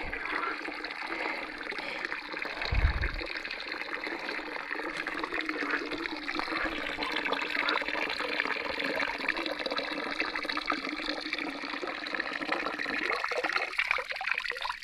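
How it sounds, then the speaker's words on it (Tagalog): Clean, very cold water flows steadily over stones in a village stream, a continuous close rushing and gurgling that holds even throughout, with no voices over it. "Ito ang tubig na to."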